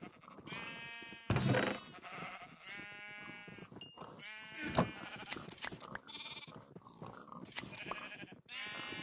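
Sheep in a video game bleat repeatedly, several loud overlapping calls in irregular bursts, with no one speaking over them.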